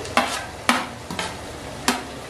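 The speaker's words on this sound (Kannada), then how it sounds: "ಅಂಡ್ ಬೆಳ್ಳುಳ್ಳಿನ ಫ್ರೈ ಮಾಡ್ಕೋಬೇಕು" Green chillies, ginger and garlic fry in a pan, with four sharp stirring scrapes and a low sizzle running underneath, loud and close.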